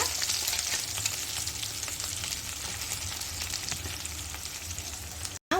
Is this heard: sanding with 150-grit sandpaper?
no